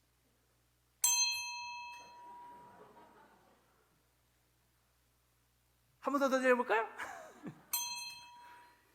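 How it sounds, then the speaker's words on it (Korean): A small bell set ringing with a single finger during a church Sunday sermon rings out clearly twice, each strike a bright sustained tone that slowly decays, with someone speaking in between. "근데 제가 여러분에게 종소리를 들려드리겠습니다."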